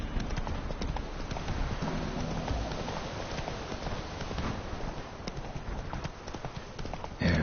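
A horse galloping in the video game The Witcher 3, with a fast, steady drumming of hooves that runs continuously and close, a rain-like hiss mixed in.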